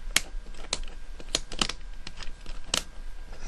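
Sharp, irregular plastic clicks come from the snap-together panels of a Hot Shot transforming toy robot. The clicks are close and distinct against a low background hum.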